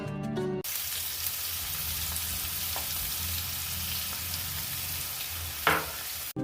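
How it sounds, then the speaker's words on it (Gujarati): Finely chopped onion sautéing in a pan with curry leaves and asafoetida, a steady broad sizzling hiss after a brief opening sound, close and even, with a couple of small scrapes near the end and no talking. "ડુંગળીને આપણે એકદમ સરસ ગોલ્ડન બ્રાઉન થાય ત્યાં સુધી સાતળશું"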